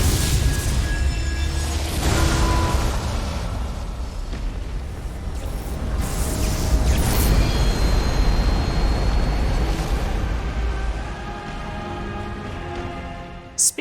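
Placidusax's huge red lightning explosion in the Elden Ring video game roars as a long, loud, rumbling blast with crackling debris that sustains for many seconds before tapering, with no music underneath.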